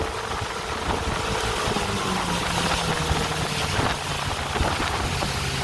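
A motorboat engine runs at a steady drone as the boat slows for a no wake zone, a continuous close rumble with water noise and no talk.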